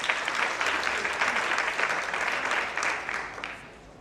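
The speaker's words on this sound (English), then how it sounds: "Let's clap hands for our Lord Jesus Christ." A church congregation claps together in steady, dense applause that holds loud and continuous throughout, with no voices standing out above it.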